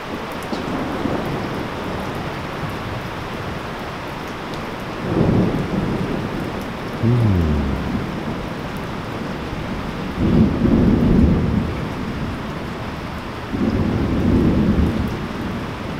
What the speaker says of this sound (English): We got thunder.